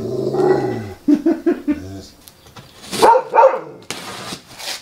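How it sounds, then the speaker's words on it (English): A dog barks and growls at passing cars in several short bursts at close range, with a couple of louder yips near the end. "you don't have to bark at every car."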